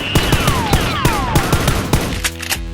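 Nerf guns fire in a staged action fight, a rapid volley of sharp snapping shots in an irregular burst, loud and close, with whistling sweeps mixed in.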